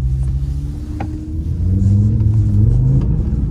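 Audi RS3 accelerating on a slippery surface with Haldex control switched off, a deep engine rumble rising in pitch as it revs up, loud and close from inside the car.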